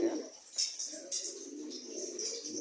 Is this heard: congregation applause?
no